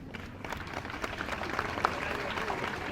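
Audience applause greeting a woman's husband at an NGO event, a steady wash of clapping that holds at moderate level for a few seconds with a faint voice or two underneath.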